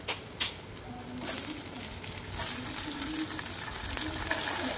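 Food frying in a hot pan until browned, ahead of adding tomatoes; a steady close sizzle runs throughout with a few brief clatters and stirring bursts.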